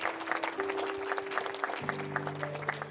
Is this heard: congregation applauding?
yes